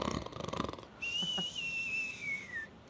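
Snoring in bed, a wheezy, whistling breath drawn out in one long high tone after a short burst of rougher, rhythmic breathing, close and fairly quiet.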